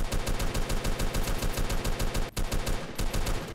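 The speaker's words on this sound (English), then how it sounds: "I've got like 100 people shooting at me." Rapid automatic gunfire rattles through a video game base battle, dense bursts of shots in quick rhythmic succession, loud and continuous with one brief pause, no voices over it.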